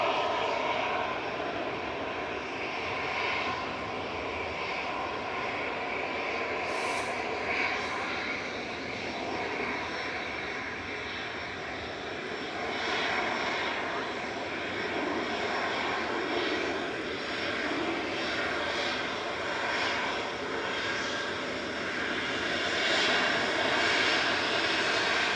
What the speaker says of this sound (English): And Etihad just coming over the threshold now and touching down. This is A6ETQ, 777-300ER